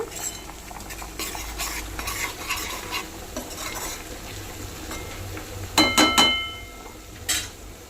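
Food frying in a pan for a chicken fry dish gives a constant close sizzle while a utensil stirs and scrapes, with a few sharp metallic clanks against the pan near the end.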